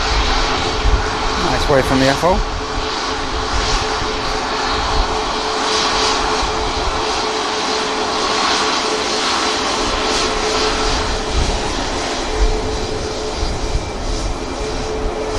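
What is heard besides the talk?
SunExpress airliner taking off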